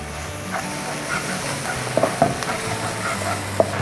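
A spoon scrapes and stirs chicken chukka masala with garam masala and fennel powder in a frying pan, soft sizzling underneath with a few sharp clinks against the pan.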